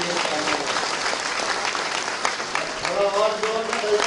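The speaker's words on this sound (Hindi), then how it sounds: "शिवमंगल जी कार्यकर्ताओं के लिए तालियां बजाएं और कार्यकर्ता शिवमंगल जी के लिए तालियां बजाएं" Applause from party workers and audience at a political speech, a full crowd clapping steadily with some voices and cheers mixed in under the claps.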